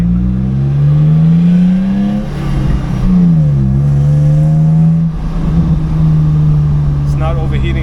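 A Nissan Xterra drives steadily after a transfer case repair, its engine holding a low continuous drone that dips and rises with gear changes, close and loud beneath occasional talk.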